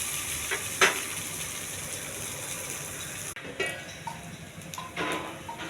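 Soya paneer fries in a little oil in a pan over a low flame, giving a steady, close sizzle with sharp scrapes and clinks from stirring, one louder clack near the start, and no voices.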